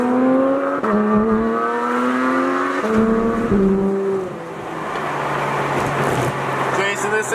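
Sports car engine revving at a supercar meet, loud rising and falling engine notes with quick gear changes that blend into louder crowd noise and exhaust as the car goes past, with people talking nearby.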